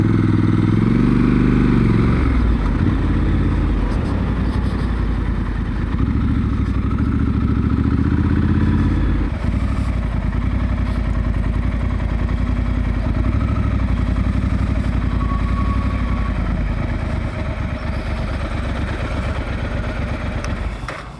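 A Triumph Scrambler 1200 XC motorcycle engine runs loud and close, a steady, dense rumble that shifts in tone early on, then holds an even throbbing note throughout.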